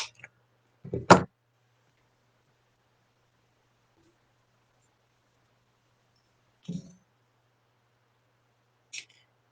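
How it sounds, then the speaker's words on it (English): Grapevine is cut for a small floral wreath, producing a few sharp, isolated snips and clicks separated by long silences, the loudest near the start and two fainter ones later. "So we're just going to cut this piece up."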